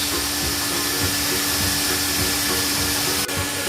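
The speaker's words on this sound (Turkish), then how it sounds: "Süpürgemizi açtık buradan. Bu şekilde şişiriyoruz." A vacuum cleaner runs continuously, loud and close, with a steady whooshing roar as it blows air to inflate a Disney McQueen car-shaped air mattress.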